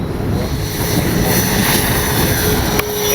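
A radio-controlled model OV-10 Bronco airplane's engine drones steadily in flight, buzzing without a break, with gusty wind rumbling heavily over it.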